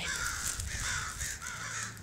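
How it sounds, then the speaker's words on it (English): Crows cawing repeatedly in a steady series of harsh calls, fairly close and loud over a low rumbling background. "I hear birds. Get off of me, birds."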